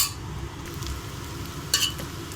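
Garlic rice stirred in a pan makes a steady soft scraping and light sizzle, with a sharper clink of the spoon near the end and no talking.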